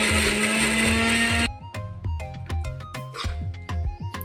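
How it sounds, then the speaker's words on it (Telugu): A mixer grinder grinds green chillies and salt in its jar, a loud, steady motor whir for about a second and a half before it cuts out abruptly, giving way to other rhythmic sounds. "మిక్సీ పట్టుకుందాం"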